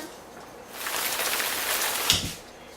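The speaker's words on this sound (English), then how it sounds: "Citizens, please be prepared for a big rainstorm" Rain from a big rainstorm swells into a steady hiss of falling water, holding for a couple of seconds with a brief louder splash before easing off again.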